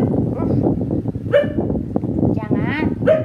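An old dog barks and yips in short bursts close by, mixed with someone talking over it.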